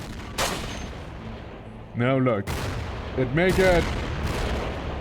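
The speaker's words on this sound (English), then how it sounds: "Heard a huge explosion." Explosions and gunfire in the video game Cataclysm: Dark Days Ahead come as sharp bursts over steady background noise, with someone talking between and over the blasts.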